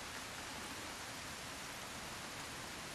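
Steady broadband hiss of rain falling all around in Resident Evil 4 Remake, a dense, even wash with no talk.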